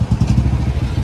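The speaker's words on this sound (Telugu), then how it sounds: "ఇంకా ఈ బైక్లు ఇవి కూడా అన్నీ ఇక స్టార్ట్ చేసి ఎక్కించేస్తున్నారు" Motorcycles idle and rumble nearby as they are started to roll onto a ferry on the Godavari at Narsapur, a steady low engine drone with a loose clattering pulse and no talk.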